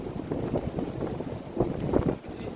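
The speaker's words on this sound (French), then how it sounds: "regarde le spectacle, le vent qu'il y a" Strong wind roars and buffets the microphone in continuous rough gusts, loud and close, with no speech, at the beach at Saline-les-Bains, Réunion.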